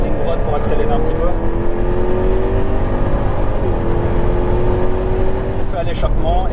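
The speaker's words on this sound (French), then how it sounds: "on va profiter d'une ligne droite pour accélérer un petit peu." A Jaguar F-Type R accelerates along a straight, its engine loud and close with a steady rising tone that briefly drops at a gear change, then climbs again. A voice talks over it.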